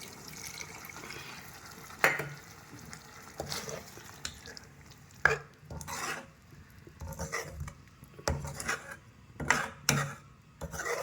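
Tamarind water is poured into a pot of sundakkai vatha kuzhambu in a series of splashy, gurgling bursts of liquid separated by short pauses, fairly close.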